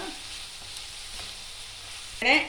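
Ginger and garlic with shallots fry in a pan for a crab curry, giving a low steady sizzle, then a brief louder scrape and rustle as they are stirred near the end.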